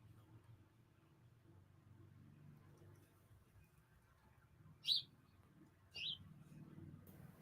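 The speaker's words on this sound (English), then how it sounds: "Am I hearing a bird?" Birds in a front yard give two short, bright chirps around the middle of the stretch, distinct but modest, over a steady low hum of room or outdoor background.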